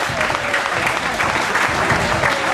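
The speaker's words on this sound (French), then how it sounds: "on peut les applaudir" Loud, close applause from an audience honoring two young participants, a dense wash of clapping filling the whole short stretch.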